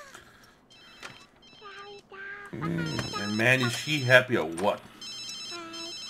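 A telephone in The Sims 3 video game rings in repeated short bursts of bright trilling bells, with someone talking over the middle stretch.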